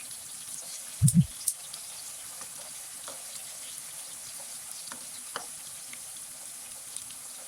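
Carrots sizzling steadily in a pan, a soft continuous fry with a brief louder clatter of the pieces being flipped near the start and a few faint clicks afterward.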